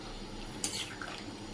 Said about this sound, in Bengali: এবার একটু জল ঢেলে দেবো এর মধ্যে